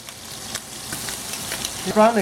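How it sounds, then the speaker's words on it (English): Shrimp frying and browning in a pan put out a steady, moderate sizzle with brief spatters, and a voice comes in at the very end. "You can see them browning up, you see the brown, so you can turn them over right now."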